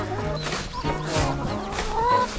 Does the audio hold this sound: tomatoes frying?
no